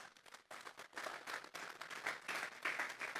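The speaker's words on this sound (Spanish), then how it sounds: "Vamos a darle un fuerte aplauso pues al Señor." A church congregation claps together during a Sunday service, a dense, steady applause that swells and stays fairly loud throughout, with no talking over it.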